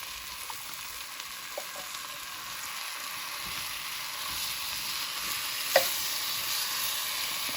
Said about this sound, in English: So we're going to add our can of diced tomatoes in.